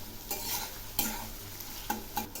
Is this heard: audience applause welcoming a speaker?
no